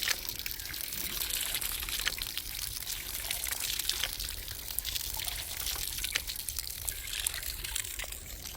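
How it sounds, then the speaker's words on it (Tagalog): A strong, steady stream of water gushing from a faucet, a continuous close splashing pour with small drips and trickles, no talking. "Ang lakas ng gripo."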